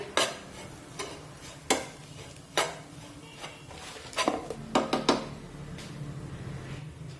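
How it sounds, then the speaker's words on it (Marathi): A spoon stirs a spiced peanut paratha filling seasoned with chaat masala, making a run of sharp scraping clicks against the bowl in uneven bursts, close and fairly loud over a faint background hiss. "आता हे सर्व व्यवस्थित मिक्स करून घेऊया"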